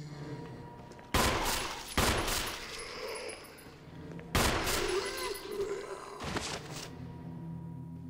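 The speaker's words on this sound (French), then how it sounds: "On va utiliser un peu le pistolet." Pistol shots in Resident Evil, a few sharp loud reports spaced a second or more apart, each trailing into an echoing decay, with a quieter impact near the end and no talk.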